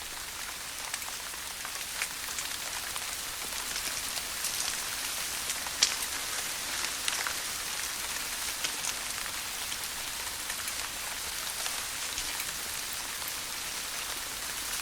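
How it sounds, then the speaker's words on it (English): A rain shower falls steadily in a gorilla habitat, a dense, even hiss of drops spattering on surfaces, with a few sharper individual drips and no voices. "With all the shelter occupied, Wolfgang has no option but to sit out in the rain"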